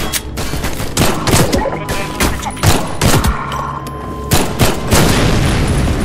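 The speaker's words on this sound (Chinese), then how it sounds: "你看那个爆炸，特效也改过哦" Explosions and rapid gunfire in a modded Half-Life 2 firefight, a loud, continuous barrage of booms and cracking shots layered over one another for several seconds.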